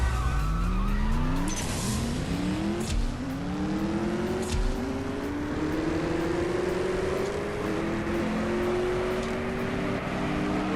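A BMW racing in the mobile drag-racing game CSR2, its engine revving hard and rising in pitch through repeated gear shifts, with a loud tire squeal at the launch and a constant roar throughout.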